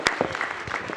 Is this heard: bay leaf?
no